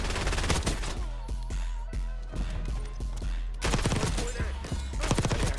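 Rapid automatic gunfire from the Ladra rifle in Black Ops 6, a no-recoil class setup, cracking in quick dense bursts close up, with short pauses between volleys and a light, snappy character.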